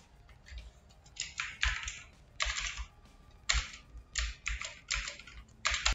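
Bursts of fast typing on a computer keyboard while coding, clustered clicky keystrokes in short runs separated by brief pauses, close and clear with no voices.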